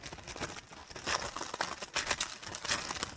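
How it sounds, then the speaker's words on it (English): A plastic bag holding diamond painting diamonds crinkles and rustles continuously as it is handled and unwrapped, close but fairly quiet. "So apologies for the crinkly noise."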